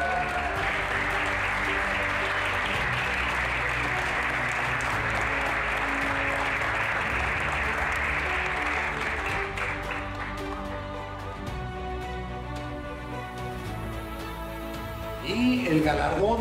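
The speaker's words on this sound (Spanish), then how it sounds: "Un fuerte aplauso." Sustained, steady applause from an audience at an awards ceremony honoring chef Susana Palazuelos with the Grandeza Hispana prize, dense clapping holding for many seconds before easing, with a voice briefly near the end.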